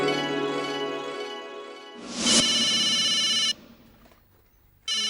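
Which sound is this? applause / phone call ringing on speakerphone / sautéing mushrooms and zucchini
phone call ringing on speakerphone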